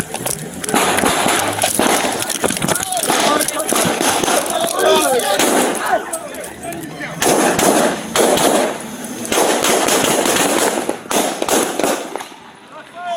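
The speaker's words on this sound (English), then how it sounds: "Shots fired, shots fired!" Gunfire during a police shooting on N Loop 1604 W in San Antonio, recorded on an officer's body camera: dense, loud sharp bangs and clatter across the whole stretch, heavily mixed with shouting voices and commotion.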